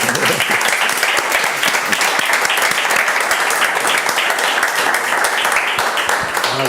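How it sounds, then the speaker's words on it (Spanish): An audience at a panel discussion on international markets and Asturian companies breaks into dense, sustained applause that stays loud and even for nearly seven seconds, with no voices standing out. "Vamos a aplaudir."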